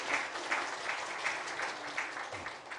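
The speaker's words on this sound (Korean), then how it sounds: "우리 박수로 환영하시기를 바랍니다" A church congregation claps to welcome a newly registered member, a moderately quiet spell of applause with a loose rhythmic pulse of clustered hand claps.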